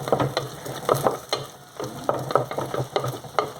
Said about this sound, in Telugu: ఉల్లిపాయలు కొంచెం వేగిపోయినాయండి